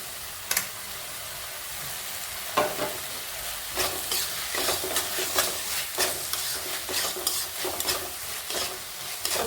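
Onion, tomato and masala sautéing in a pan for a tur dal usal, steady sizzling under frequent scraping and stirring strokes of a spoon, growing busier toward the end.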